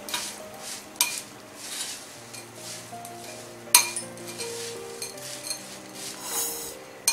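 Bhel puri ingredients being mixed in a bowl, with repeated clinks and scrapes of a spoon against the dish in an uneven rhythm, close and moderately loud, with a few sharper knocks.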